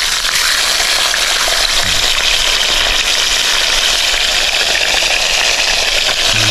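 Piau fish frying in a pan on a riverbank, a steady, loud, dense sizzle of hot oil crackling continuously throughout, with no talking.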